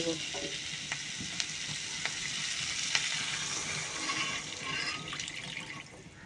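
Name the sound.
water added to frying spice paste in a pan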